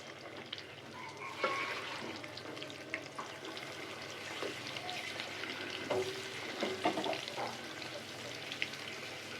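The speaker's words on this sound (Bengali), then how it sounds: "ব্যাটারে চুবিয়ে ভেজে নেব" Batter-dipped potato chops frying in hot oil, a soft continuous crackle and bubbling with occasional light clinks, heard at moderate distance and fairly quiet.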